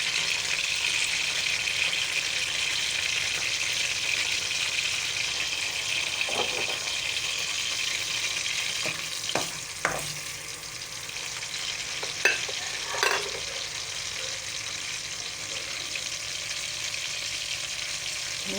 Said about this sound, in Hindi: अब हम इसमें डालेंगे एक दरमियाने साइज़ की प्याज बारीक कटी हुई और इसे अच्छे से ब्राउन करेंगे।